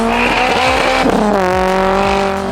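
A time attack race car laps Sydney Motorsport Park, its engine loud and close with a steady high harmonic whine that shifts pitch as it works through the gears, a brief tire chirp under the constant roar.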